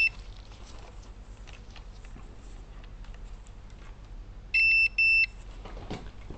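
A continuity tester gives two short, sharp beeps while probing the charging circuit of a Lenovo Yoga 2 13 motherboard (ZIVY0 LA-A921P), heard over faint workbench clicks and low room hiss.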